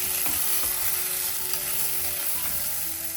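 Chili powder sizzles and fries steadily in hot oil with ivy gourd and onion, a loud, continuous crackling hiss with faint stirring scrapes.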